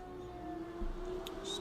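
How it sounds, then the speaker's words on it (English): An odd siren wails outside as a steady, faint sustained tone heard from a distance indoors, with no talking over it. "What an odd siren. Sure you guys can hear that out there."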